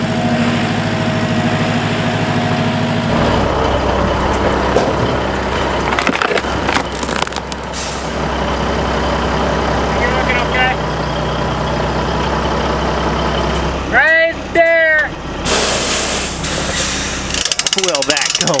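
Semi truck engine running steadily and loudly up close while the rig works over a dip, with a rough low rumble, some clattering and creaking, and a brief pause near the end.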